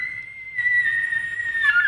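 A high, sustained whistling squeal, like an imitated elk bugle, holding steady for nearly two seconds and rising in strength toward the end.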